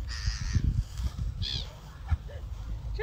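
Gulls being fed biscuits at Lake Drivyaty in Braslav call out in harsh, scattered squawks at close range. A person's voice and handling noise can be heard between the calls.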